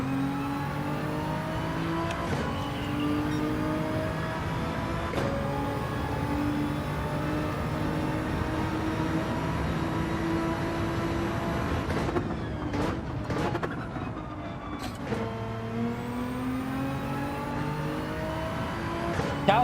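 A Nissan GT-R race car in Gran Turismo 7 drones along at high revs, its engine note rising and falling through gear changes, steady and loud with brief shifts and lifts in the middle.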